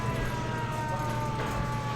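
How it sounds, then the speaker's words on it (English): An air raid siren wails at 7s Pinballorama Arcade on Prince Edward Island, a steady sustained tone with faint harmonics held at moderate loudness across the brief stretch, over background room noise. "Air raid siren."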